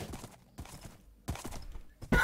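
Horse hooves clip-clopping in Minecraft on a Hypixel UHC server, several short bursts of hoofbeats separated by brief gaps, ending in a louder burst of sound, with no one speaking over them.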